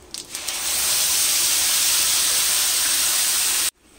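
Tomato paste dropped into hot oil sets off a loud, continuous hiss and sizzle that holds steady for several seconds before cutting off abruptly.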